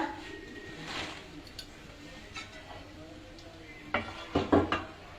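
Chushi rice dumplings go into a pot of boiling milk for chushi payesh, with soft clinks and clatters of utensils against the pot and a cluster of sharper knocks near the end, over a low kitchen hum.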